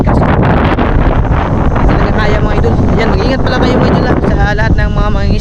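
Strong, gusty seaside wind roars and buffets the microphone continuously, a heavy broadband rush with flapping bursts throughout.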